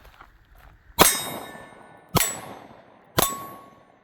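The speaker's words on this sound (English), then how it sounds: "let's do a little shooting with it and see how it feels" Three sharp pistol shots fired from an FN Reflex with 124 grain coated bullets, about a second apart, each a loud crack with a ringing metallic decay, no talk.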